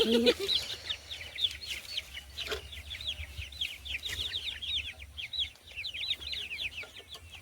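Village chickens, small, medium and large, cluck and chirp continuously in a chorus of short, high calls, with a low steady hum underneath and a few louder squawks near the start.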